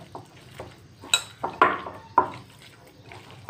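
Jackfruit kofta mixture bound with besan being mixed by hand in a bowl: soft, intermittent squelches and light clatters come in irregular bursts, fairly close, with no talking.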